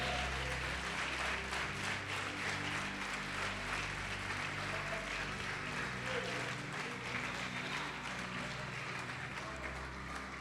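A church congregation applauds and praises during a Portuguese-language sermon, producing a dense, fairly distant wash of clapping that runs steadily throughout, mixed with a faint murmur of voices.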